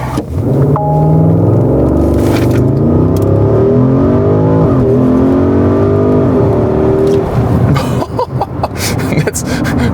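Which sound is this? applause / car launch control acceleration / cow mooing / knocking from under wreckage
car launch control acceleration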